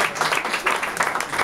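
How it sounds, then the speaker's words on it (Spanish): Brief burst of audience applause at a RetroMadrid 2008 talk, brisk and uneven claps filling the short moment at moderate loudness. "Joder, un aplauso"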